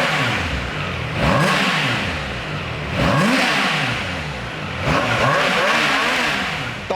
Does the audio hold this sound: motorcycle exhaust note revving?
yes